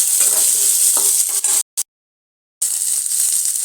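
Ingredients for a Madurai-style mutton kuzhambu are sautéed on a low flame until golden brown, with loud steady sizzling and scraping stirs in the pan, then a sudden break of near silence before the frying sound resumes.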